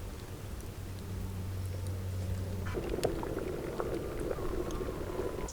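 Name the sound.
milk with rose petals boiling in a pot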